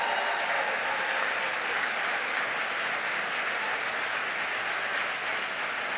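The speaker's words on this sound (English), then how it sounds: "Give them a big round of applause" A summit audience on gun safety gives sustained, even applause, a thick continuous roar of many hands clapping at a steady level throughout.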